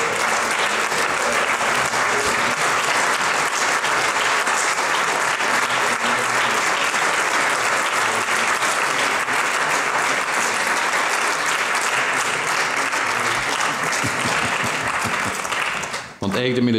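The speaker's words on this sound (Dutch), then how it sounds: "En ik zou toch een applaus willen geven voor..." Sustained, loud applause fills a parliament chamber for a retiring guard, a dense roar of many hands that holds steady before cutting off abruptly at the end.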